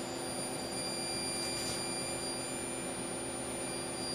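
A small MY1018 electric motor runs steadily on a test circuit, giving a constant faint whine with a steady hum and no talk.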